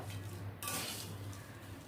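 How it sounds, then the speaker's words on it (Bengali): Dal and dalia stirred in a pot, a quiet scrape and clink of a spoon against metal over faint low background hum. "এবারে আমি ডাল আর ডালিয়াটা একটু ভালো করে নাড়িয়ে নেব।"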